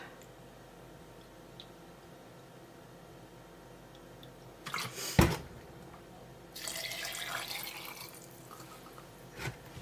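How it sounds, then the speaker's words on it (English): White vinegar glugs into a jar of sliced red onions for fridge pickles, in two short pours: a quick splash midway, then a longer, softer stream against quiet room hiss. "now we're going to put in some white vinegar"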